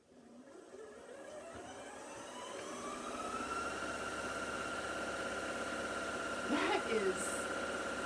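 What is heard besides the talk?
sewing machine stitching at full speed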